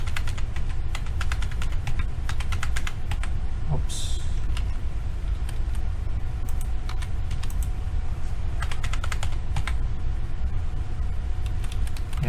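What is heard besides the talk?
typing on a computer keyboard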